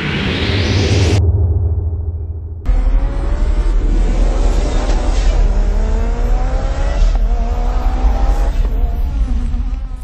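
A rally car engine from WRC FIA World Rally Championship 2011 roars loudly and close, revving and shifting up through rising pitches, with tyre noise and a brief sharp cut in the sound early on.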